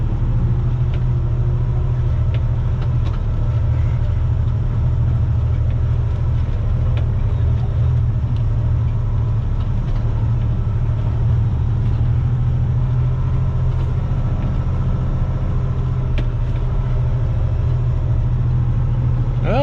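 A line of trash trucks idles at a landfill, their diesel engines holding a steady, heavy low rumble that runs unbroken and fairly loud the whole time, with occasional faint clanks and knocks in the background.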